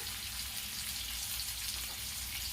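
Potatoes frying on high flame in a pan in a home kitchen, a steady dense sizzle and crackle running unbroken throughout, close and fairly loud, with no talk.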